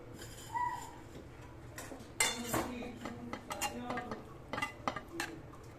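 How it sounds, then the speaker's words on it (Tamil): A metal spoon scrapes and knocks against a pan while egg curry with chilli powder is stirred for Chettinad-style muttai kari, giving irregular clinks and scrapes over a quiet background. "மிளகாப்பொடியை போட்டு முட்டையும் போட்டு இப்படி இந்த மாதிரி நல்லா கிண்டி விட்டு வச்சுக்கிறோம்."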